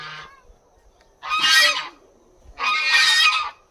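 A goose honks in a grassy outdoor spot, a brief call followed by two longer, loud, harsh honks with a pause between them, heard close and without talk.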